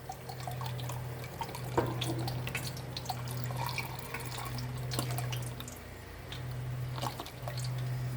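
Regular beef broth is poured into a pan for a slow-cooker roast: a steady, close liquid splashing and trickling over a low hum, with no talking.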